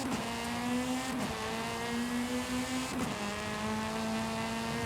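Car engine in Forza Horizon 5 revving steadily at a sustained high pitch, with brief dips around gear shifts, loud and close with no talking.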